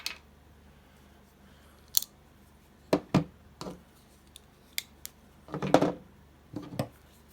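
An Artisan folding knife being worked open and shut, giving a series of sharp metallic clicks and snaps at irregular intervals, close and crisp against a quiet background with a few softer handling rustles.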